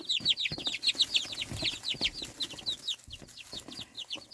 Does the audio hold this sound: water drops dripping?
no